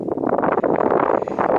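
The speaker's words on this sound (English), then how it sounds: "This wind in the summer is absolutely a saver." Gusty summer wind on a hike near Cheddar, buffeting a nearby microphone, a loud, fluttering rush for a moment.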